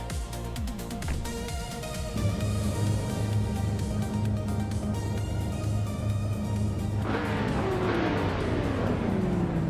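In an AI racing game at Goodwood, a pack of race cars led by a 2004 Nissan 350Z GT roars steadily, with engines droning and layering as they accelerate, and a passing car sweeping by near the end.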